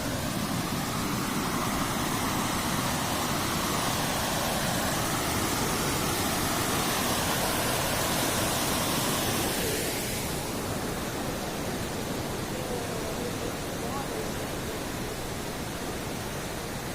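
Broad, loud roar of a waterfall's rushing water surrounds the listener at close range, a constant hissing wash that shifts slightly in tone partway through, with no voices.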